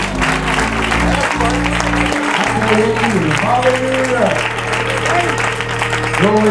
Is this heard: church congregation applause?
yes